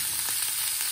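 Food with salt, black pepper, dill, rocket and spring onions fries in a pan in a cottage kitchen, giving a steady, close, bright sizzle with no talking.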